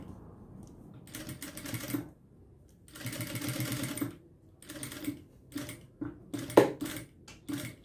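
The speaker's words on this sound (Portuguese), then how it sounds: "Cheguei aqui numa lateral, já passo a costura nessa lateral." A sewing machine stitches the side seam of a fabric toiletry bag in several short bursts of rapid, clattering needle strokes. Quiet pauses separate the bursts, and there are small clicks and taps from handling near the end.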